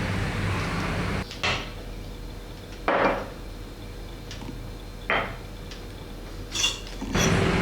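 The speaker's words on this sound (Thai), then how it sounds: "หั่นปลาหมึกแห้งอย่างนี้ไว้ก่อนนะครับ" Dried squid being sliced with a knife on a board in a home Thai kitchen: four separate sharp chopping knocks spaced a second or two apart, close and clear over a steady low background hum.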